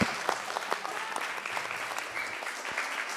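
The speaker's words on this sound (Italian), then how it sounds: "Applausi." Audience applause at an Italian televised theatre and music show, steady dense clapping from a crowd filling the whole stretch without pause, moderately loud and fairly near.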